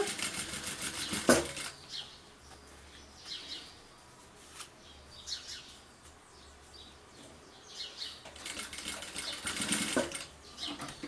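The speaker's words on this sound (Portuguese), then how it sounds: "E vou costurar, vou continuar costurando." A sewing machine stitches bias binding onto a fabric bag, its motor whirring in bursts with a louder run near the end, interrupted by brief clicks and quieter pauses.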